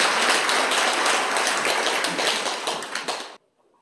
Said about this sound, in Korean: 박수 한번 보내주시기 바랍니다